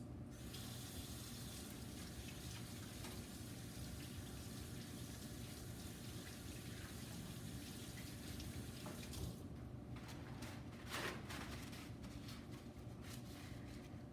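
Steady stream of tap water running into a sink during handwashing in a culinary class kitchen, a continuous close gush that changes briefly near the end as hands move under it, with no talking.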